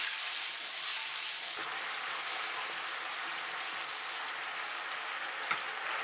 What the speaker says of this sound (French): Je remue la sauce d'assaisonnement et je la verse dans la poêle.